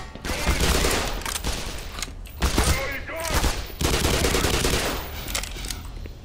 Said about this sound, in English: Weapon's actually pretty precise. It's a good ass machine gun.